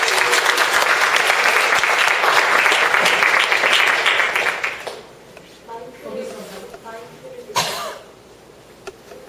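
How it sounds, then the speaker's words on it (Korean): Lecture audience applauding to welcome a speaker, dense loud clapping for about five seconds that cuts off abruptly, followed by quieter room sounds, a cough and shuffling. "큰 박수로 맞이해 주시기"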